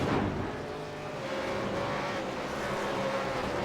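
A Holden supercar races at Silverstone, its engine a steady, moderately distant roar that swells and eases slightly as it runs through the circuit, with no talk over it.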